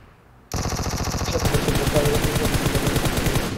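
Rapid automatic gunfire in the mobile game PUBG Mobile starts abruptly after a brief quiet moment and continues as a loud, dense, unbroken stream of shots up close.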